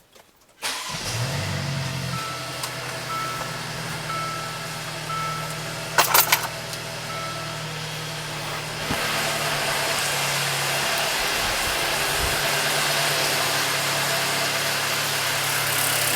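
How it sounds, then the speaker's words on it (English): A car engine cranks briefly during a battery cranking test, then fires and settles into a steady idle that runs on close and loud, with a couple of short clicks partway through and no talking. "So we'll go to cranking test, enter, please start engine."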